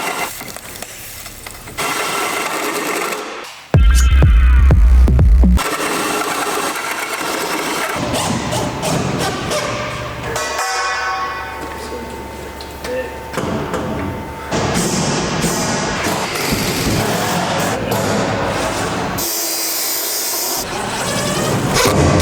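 Loud, close drilling into metal with grinding, shifting tones and a few brief pauses, running almost continuously throughout.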